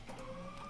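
DTF printer running its cleaning cycle after weeks idle, a short close mechanical whir with a steady motor tone and faint clicking, heard alone without talk.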